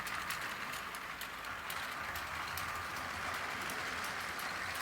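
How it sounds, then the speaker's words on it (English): A steady mechanical clatter with fast, regular ticking as a LEGO toy train rolls along its track, constant and fairly quiet throughout. "Start the train up."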